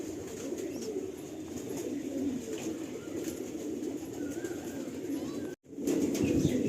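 A breeding pair of Mangalgiri pigeons coos in a loft, a continuous low throaty murmur close by with a brief break near the end.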